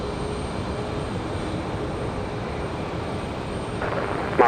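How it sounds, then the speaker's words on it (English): An Airbus A220 airliner touching down at Raleigh-Durham airport, a steady broad engine roar at a distance that holds evenly throughout, with a brief sharper swell near the end. "So Moxie coming in from Pittsburgh, that A220. Touching down now."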